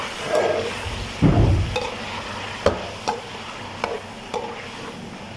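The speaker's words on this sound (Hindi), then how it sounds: "अब इसको अच्छे तरीके से भूनेंगे।" Mutton being stir-fried in a karahi for Shinwari karahi, a soft steady sizzle broken by a heavy scrape of the spoon and then sharp periodic clinks and taps of stirring.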